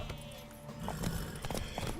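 Horse hooves clip-clop in The Witcher 3, a few quick, faint thuds set against a soft game background.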